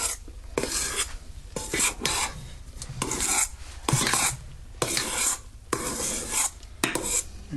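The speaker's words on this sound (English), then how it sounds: "I have my 1/4 cup of cocoa powder, and I have a big spoon. And we're going to just stir that in" A big spoon stirs cocoa powder into meringue, making repeated rasping, scraping strokes in bursts of about a second each, close and fairly loud, with no talking.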